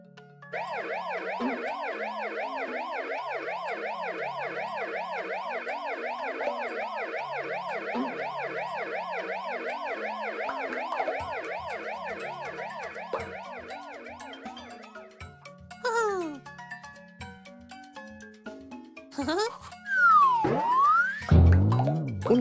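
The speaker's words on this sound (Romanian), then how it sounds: "Ambulanță." A wailing ambulance siren cycles steadily, loud and clear, then fades as other siren sweeps and electronic tones cut in near the end.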